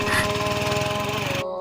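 A voice imitates a shallow irrigation pump engine, producing a fast, even, pulsing chug that runs loud and close for about a second and a half before stopping abruptly.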